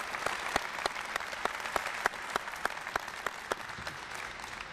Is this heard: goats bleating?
no